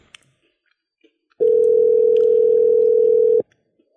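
A telephone ringback tone from an unanswered call: one steady, loud, continuous tone lasting about two seconds, heard alone between brief quiet stretches.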